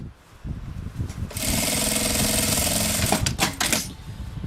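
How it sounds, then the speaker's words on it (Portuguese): A sewing machine stitches the lining of a casual backpack closed, quiet handling at first, then a fast, steady mechanical whir up close that ends with a few short bursts. "passar uma costurinha aqui pra fechar esse buraco"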